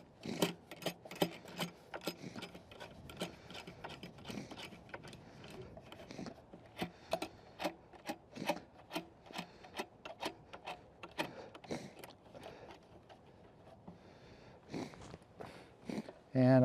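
Bolts being tightened on a wooden wood duck nest box outdoors, a string of small metallic clicks and ticks in an uneven rhythm, quiet and close, with a person talking between them.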